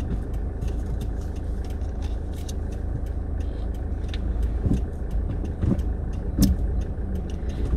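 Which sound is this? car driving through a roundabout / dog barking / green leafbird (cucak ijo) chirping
car driving through a roundabout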